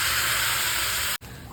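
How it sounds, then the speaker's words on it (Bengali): Chicken goes into hot spice paste in a pan, giving a loud, steady hiss of steam and sizzle that cuts out abruptly for a moment before resuming. "চিকেনটা ঢেলে দেব"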